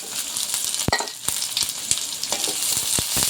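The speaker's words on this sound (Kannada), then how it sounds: "ತೆಂಗಿನ ತುರಿ ಸ್ವಲ್ಪ ಆ್ಯಡ್ ಮಾಡ್ಕೊತಾ ಇದ್ದೀವಿ" Grated coconut sizzles steadily in a hot pan of onions for sprouted horse gram sambar, with sharp spoon-scrape clicks and stirring knocks breaking through the close, continuous frying hiss.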